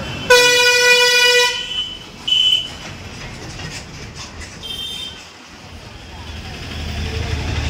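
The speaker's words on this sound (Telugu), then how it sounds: "మన రాజంపేట కడప బస్సు" A Rajampet–Kadapa bus blares its horn at a roadside stop, one long loud honk followed by two shorter blasts, with street noise and faint voices in the background.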